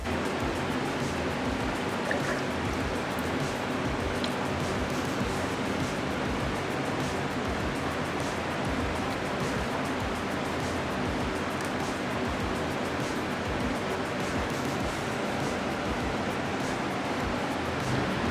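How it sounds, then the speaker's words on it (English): Fans run in a garage spray area while clear coat goes onto a carbon fiber hood and trunk for a 2015+ Subaru WRX, giving a constant loud whooshing rush with no talk. "Hopefully the fans aren't too loud"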